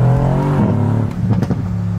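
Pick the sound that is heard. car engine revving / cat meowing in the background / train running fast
car engine revving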